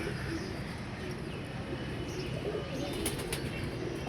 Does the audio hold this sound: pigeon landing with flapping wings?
yes